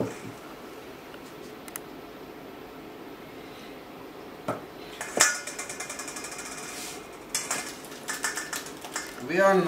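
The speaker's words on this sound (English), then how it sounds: "I'm stirring it now because it's got a lot of whey here, just to mix it all" Milk kefir thick with whey being stirred in a container, with scattered clinks and scrapes of a utensil against the vessel, sparse at first and then busier in short bursts toward the end, close and moderately loud.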